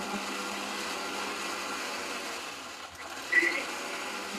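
A mixer grinder grinds urad dal and other ingredients, making a steady, fairly faint whirring drone that runs throughout, with a brief bump near the end and no speech.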